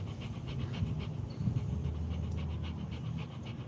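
Dog panting steadily and close by, rapid rhythmic breaths running without a break over a low background hum, with no talking.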